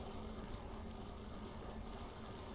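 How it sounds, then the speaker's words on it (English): A waterfall in the Thief Gold video game gives a faint, steady low rushing roar that holds evenly throughout with no other sounds on top. "that sounds like a waterfall"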